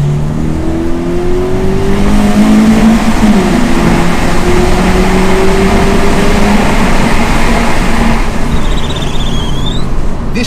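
Toyota GT86 engine revs hard inside a tunnel, loud and echoing, with rising and falling pitch sweeps of acceleration through the gears, continuous and close throughout.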